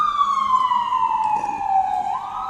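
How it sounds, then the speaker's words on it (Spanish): An ambulance siren in Washington wails loudly and steadily, a single long descending tone that then jumps back up near the end, over low traffic rumble. "en Washington siempre hay ambulancias"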